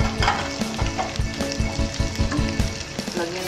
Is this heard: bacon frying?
yes